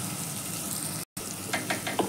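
Rice tipped into a pan of hot sizzling oil, with a steady frying hiss throughout, a brief gap partway through, then a few crackling bursts as the grains hit the oil.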